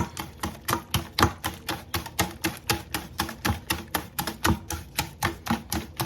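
Eggs and banana being mixed in a bowl for banana pancakes, a steady rapid rhythm of clacking utensil strokes against the bowl, close and even, with no talk.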